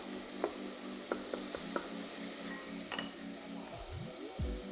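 Mushrooms sizzling in a pan while cooking for a vegan sea moss stew, a steady soft frying hiss with a few light clicks and scrapes of stirring, close and quiet, no talking.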